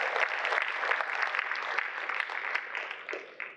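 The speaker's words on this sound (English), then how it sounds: "you all should give yourself a warm, a round of applause for yourself for turning out today" An audience at a doctors' career conference claps in a steady, dense round of applause, moderately loud and even throughout, with no talk over it.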